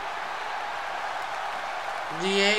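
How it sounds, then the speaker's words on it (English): In a PS4 wrestling video game, a broad crowd roar and applause fills the arena, then a tonal entrance sound rises near the end, loud and fairly close. "They give a loud cheer."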